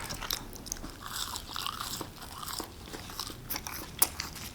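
Crunchy bites and chewing of Jack in the Box fries eaten plain without sauce, close to the mic, with repeated crisp crunches and soft mouth sounds and no talking.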